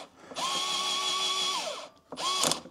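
A power drill drives screws into a particleboard side table, its motor whining steadily for about a second and a half, winding down, then revving again in a second short burst, close and loud with no talking.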